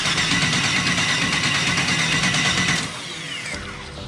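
A turbocharged LS engine swapped into a Mustang cranking over, a loud rhythmic mechanical whir that holds steady and then drops away to a quieter hum.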